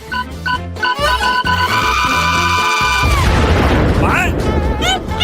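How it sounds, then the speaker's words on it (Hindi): A cartoon candy bomb goes off as a loud, rumbling burst midway through, after bright musical tones and a rising whistle, with busy cartoon music carrying on afterward. "ऐसा लगता है कि ये कैंडी बम था।"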